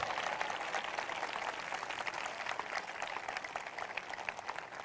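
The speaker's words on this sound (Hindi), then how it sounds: "वो ताली बजाकर धन्यवाद कर रहे हैं।" A church congregation at a prayer ministry gathering claps steadily in thanks, a dense, continuous patter of many hands with no pauses.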